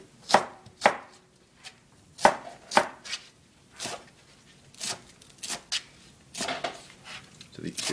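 Knife chopping scallions diagonally on a cutting board, a series of crisp irregular taps, some close together and some spaced apart, clear and near, with no talking.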